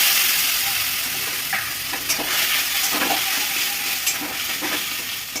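Fried onions in a pan being stirred with ground mustard and poppy seed paste in a home kitchen, giving a steady close sizzle broken by repeated scraping strokes of the spoon.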